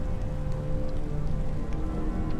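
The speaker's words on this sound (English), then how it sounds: "The rain, it looks really good." Steady rain falling in the video game The Planet Crafter, a dense even hiss of drops on surfaces, constant and fairly loud with no speech.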